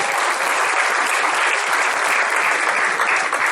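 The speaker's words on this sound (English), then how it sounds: "Clap for your batchmates, come on." A class applauding batchmates: dense, steady clapping from a group, loud and close, filling the whole stretch without any talk.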